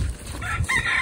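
Chickens at a poultry farm, a brief close burst of clucking and a rising crow-like call from the fowl.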